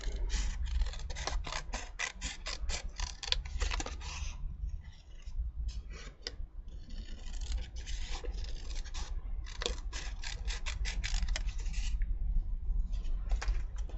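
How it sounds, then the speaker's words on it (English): Scissors cutting out card in a papercraft session, a quick series of close, crisp snips and rustles in bursts with short pauses between, fairly quiet overall. "Don't it all get caught in your scissors when you're cutting out?"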